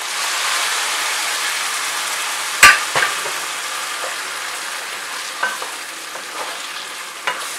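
Blended chili sauce hits a hot oiled pan for steak with tomatillo chili, giving a loud steady sizzle and frying hiss with a few clanks of a spoon or pan as it is stirred.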